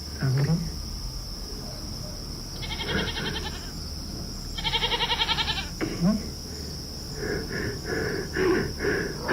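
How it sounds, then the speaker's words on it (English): A goat bleats in loud, wavering, scream-like cries, several separate calls in sequence, over a constant high buzz of crickets or insects. "you think it's a person screaming, you walk over, it's just a goat"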